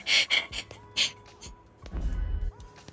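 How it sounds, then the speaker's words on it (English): Enemy sentries in Mafia 3 pant in short, breathy gasps, several quick bursts close together at first, then heavier rasping breaths, fairly near. "I love how you can hear them panting"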